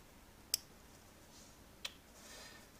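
Scissors snip along an egg shell in two quick, sharp clicks about a second apart, close but quiet in an otherwise hushed room.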